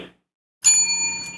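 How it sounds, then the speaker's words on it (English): A single bell rings out bright and clear at the start of a boat paddling session, its struck tone lingering with a steady ringing sustain after a brief silence. "I hear the bell."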